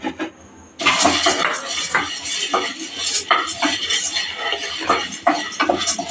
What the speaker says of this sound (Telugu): ఇప్పుడు మనము పప్పులు, శనక్కాయ పప్పులు ఒకసారి వేయించుకోవాలి